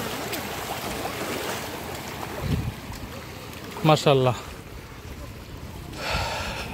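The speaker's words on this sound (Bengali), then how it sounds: "বাতাস, সাগরের ঢেউ, গর্জন, ঢেউ এসে আসতে পড়ছে এই কুলে" Sea waves breaking on the shore at Nidrar Char in Barguna, with wind blowing across the beach; a steady rushing wash runs throughout, and someone speaks briefly partway through.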